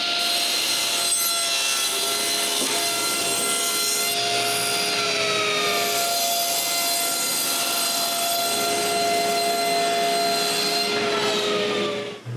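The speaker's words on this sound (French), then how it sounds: "je surface tous les morceaux à la même épaisseur et je coupe les bouts droits" Wooden pieces for Christmas decoration stands being machine-surfaced to equal thickness and trimmed square, a loud steady whining roar with shifting tonal pitch that runs without pause for the whole stretch.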